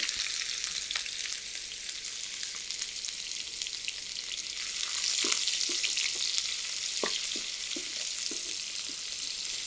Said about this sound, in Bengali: ফ্রাই প্যানে কিছুটা তেল দিয়েছি, এখন পেঁয়াজ দিয়ে দিব।